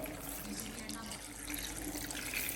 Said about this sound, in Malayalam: രണ്ടാം പാൽ ഒഴിച്ച് അടുപ്പത്ത് വയ്ക്കുകയാണ്